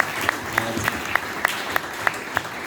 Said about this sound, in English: please, round of applause there.